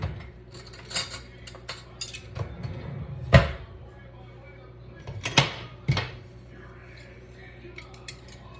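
Two metal spoons clink and clatter in a home kitchen while frying Italian lemon frittelle, with a few sharp metallic knocks standing out over a low background hum and some handling noise.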